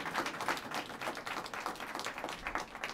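Dense, continuous applause from a conference audience, many hands clapping steadily throughout at a moderate, slightly distant level.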